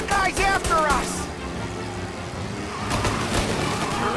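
Engine of a car in the game Mafia Definitive Edition revving and roaring nearby, rising and falling with a screech of tires, while a voice briefly speaks at the start.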